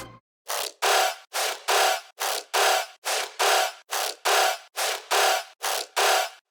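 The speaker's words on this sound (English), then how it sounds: "the first set of layers I added are these alternating quarter note basses" Gritty distorted riddim dubstep bass tones alternate in even quarter-note pulses, each short burst buzzing and grinding, about a dozen hits in a steady rhythm with brief gaps.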